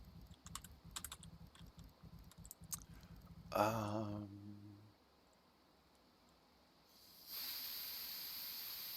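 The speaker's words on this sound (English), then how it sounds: "I have spent many minutes just filling this area up with steam and just watching it fill up at the bottom" Steam hissing in the Atomcraft video game, a bright continuous hiss that starts late and holds steady, heard after a stretch of keyboard typing and a short tonal game sound.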